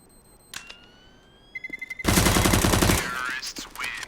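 A loud burst of rapid automatic gunfire lasting about a second from a CS:GO pro match on the Train map, where a UMP submachine gun is in play, preceded by sharp single shots and clicks.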